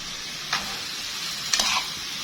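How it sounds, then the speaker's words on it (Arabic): Ingredients sizzle in a frying pan under a steady hiss, with two distinct stirring scrapes a second apart as a spoon turns the mixture. "واجيب المكونات اللي انا قلبتها عندي واكبها عليها برضه، واقلبهم تاني برضه مع بعض."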